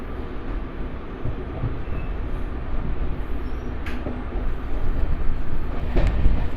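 A MEMU express festival special runs from Visakhapatnam toward Parvatipuram, heard from onboard as a steady rumbling roar of wheels and carriage that swells slightly louder, with brief metallic squeals.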